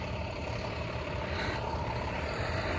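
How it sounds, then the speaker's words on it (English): A school bus drives past on a neighborhood street, its heavy engine rumbling steadily and fairly loud throughout with a broad road hiss, no voices over it. "There's a school bus, all the kiddos going to school."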